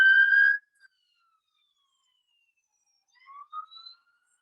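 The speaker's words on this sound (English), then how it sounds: "after like a couple minutes of those sirens dying away" Police car sirens sound outside, a clear wailing tone that cuts off after half a second, then fainter rising and falling wails return from farther away near the end, with no voices.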